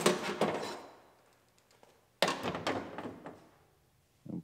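Outside door handle base on an Acura RDX door is worked free and pulled out, giving two bursts of close plastic and metal clunks and scraping with a quiet gap between, then a final short knock.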